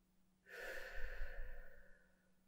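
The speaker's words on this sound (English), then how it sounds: "Breathe out." A single soft, close exhale during a physical exam, a breathy rush of air that swells and fades over about two seconds in a quiet room.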